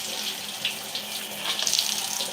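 A shower runs water over hair for rinsing, a steady, bright hiss of spray with small splashing fluctuations, heard alone and fairly close.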